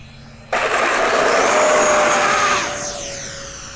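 An E-flite F-15 64mm EDF RC jet sweeps past as a loud broadband ducted-fan rush with a rising whine, which sets in abruptly and then fades and dopplers away as the jet moves off.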